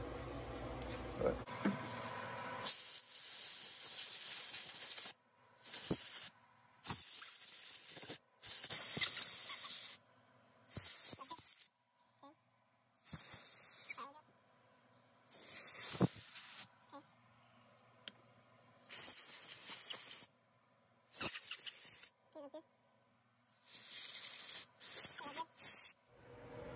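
Carb cleaner hisses in short, loud bursts of spray onto an ATV carburetor, separated by quiet gaps with faint handling noises.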